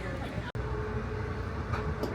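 Interior of a passenger train travelling between New York and Washington, with a steady low rolling rumble throughout, a brief dropout near the start, and no distinct wheel clatter.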